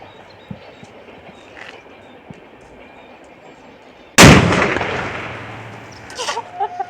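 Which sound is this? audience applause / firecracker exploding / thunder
firecracker exploding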